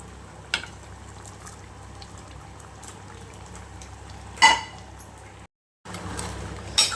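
Paneer curry boils in a pan, a steady low bubbling simmer close by, broken by a couple of louder pops and a brief silent gap, with no talking.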